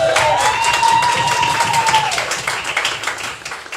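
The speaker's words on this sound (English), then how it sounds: "Let's give her a round of applause." A crowd applauds loudly and steadily, with some cheering mixed in, tapering off slightly toward the end.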